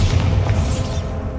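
A blasting spell explodes in the Hogwarts Legacy video game: a dense, loud, rumbling boom that fills the whole short moment with no break.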